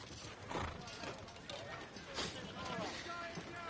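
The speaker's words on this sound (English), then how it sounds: "Just a horse." Horse hooves clip-clop in a fantasy television drama scene: a few rhythmic, moderately close hoofbeats under a noisy, murmuring background with voices.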